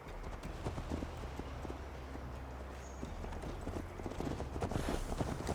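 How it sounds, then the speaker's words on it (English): Horse hooves clip-clop steadily as a mount is ridden in Assassin's Creed Valhalla, a continuous trotting rhythm over a low ambient bed of the game world. "Mount up, Eivor. It's a long ride to Tamworth"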